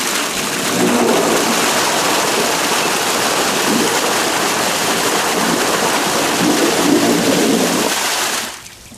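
An Aqua Blaster pond aerator churns lake water in a steady, loud, broadband rush that holds constant before cutting off near the end.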